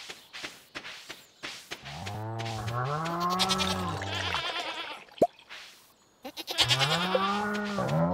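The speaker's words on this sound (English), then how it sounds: "Sad goat giving large goat milks." Goat bleating in the farming video game Stardew Valley, several drawn-out wavering cries in a row, loud and close, separated by short pauses, with a brief sharp click partway through.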